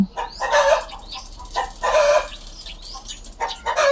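Chickens cluck and squawk in loud repeated bursts close by, with no talking.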